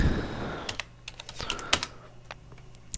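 Someone types a password on a computer keyboard: a quick, uneven run of close, crisp key taps with short pauses, over a quiet background.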